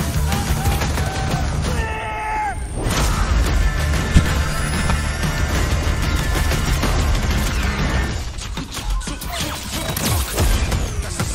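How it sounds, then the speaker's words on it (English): Drone bomb blasts and crashing battle noise from Battlefield: Portal, a dense, loud, continuous wash of explosions and debris with one sharp impact standing out midway. "That's the sound of the drone bomb"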